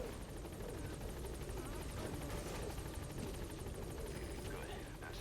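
Helicopter in the video game Metal Gear Solid V hovering close by, a steady throbbing rotor chop with a constant engine whine, continuous and fairly loud throughout.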